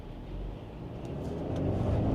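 A GAC GS3 Emzoom car builds engine and road noise as it accelerates, a low rumble rising gradually in loudness toward the end, with no talk.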